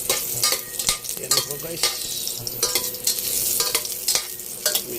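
Garlic sautéing in oil in a pan, a close sizzle with frequent sharp spatula scrapes and stirs, while a person speaks briefly.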